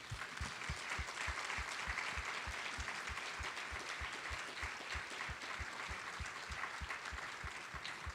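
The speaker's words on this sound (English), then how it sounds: "would you please just give a warm applause to them?" A conference audience at the 2025 International LGMD Conference applauds speakers with steady, fairly faint clapping throughout, over a regular low thumping beat.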